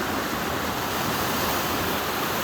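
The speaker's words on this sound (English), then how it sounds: "The current hits right onto this rock, slams into it, goes down." Rushing river current in Alaska slamming into a big rock, a steady, loud broadband roar of churning water with no pauses, close by and alone.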